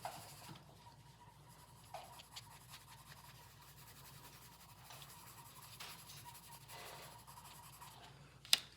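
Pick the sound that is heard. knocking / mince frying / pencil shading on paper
pencil shading on paper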